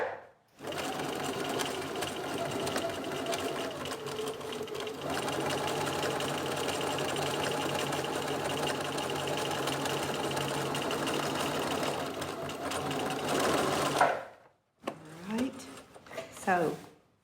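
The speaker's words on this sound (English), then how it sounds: "So we're going to stitch down through here, keeping our eye on the 1/4 inch seam allowance." A sewing machine stitches a French seam with a 1/4 inch seam allowance, running in a steady continuous whir for about fourteen seconds before stopping, followed by brief handling noises of fabric and machine.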